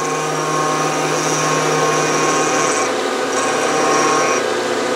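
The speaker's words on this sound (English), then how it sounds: "I'm using the same 60 degree cutter here, and all I'm doing is running it back and forth." A Bridgeport mill with a 60 degree cutter milling brass rod, running back and forth: a loud, steady whining cut with a constant motor tone, the pitch shifting slightly as the pass changes direction, no talk.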